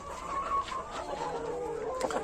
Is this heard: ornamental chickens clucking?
yes